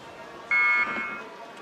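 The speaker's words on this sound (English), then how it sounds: "the buzzer goes and they shoot off the blocks" A loud electronic start buzzer sounds once for about a third of a second at a lightweight men's double sculls rowing race final, with crowd and commentary noise faintly around it.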